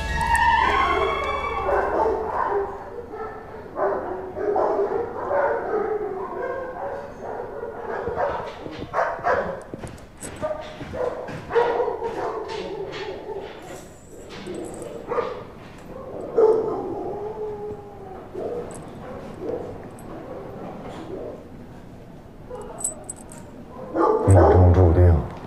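A dog yips and howls on and off through a training session with a police dog unit, mixed with busy speech and movement, with a loud bark burst near the end.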